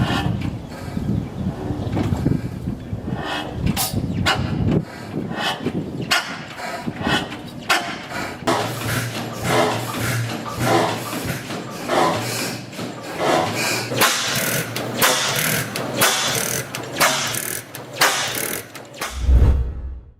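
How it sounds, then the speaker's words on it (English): A 1913 Fairbanks Morse engine with an enormous flywheel runs close by, giving off a rapid, uneven series of mechanical clacks and knocks over a continuous rumble. "1913, this Fairbanks MORSE machine depends on raw power for ignition. No electrical components, just an enormous flywheel and persistence. A steady rhythmic pulse of vintage agricultural innovation."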